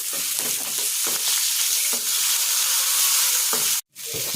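Bitter gourd frying in a pan with oil for a masala tandoori dish, a loud, steady sizzle with occasional stirring scrapes, broken by one brief silent gap near the end.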